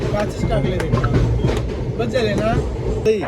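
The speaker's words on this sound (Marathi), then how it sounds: "तर आता निघालो आम्ही वसईवरनं ट्रेन सुटले" A train pulls out of Vasai station with a rumbling, rattling run and scattered clacks, while indistinct voices carry through the carriage.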